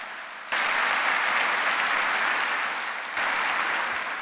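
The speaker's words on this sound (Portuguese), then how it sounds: "Você quer aplaudir Jesus?" A church congregation at a Sunday service claps together in a broad, even wash of applause that starts abruptly and swells again partway through, with no speech over it.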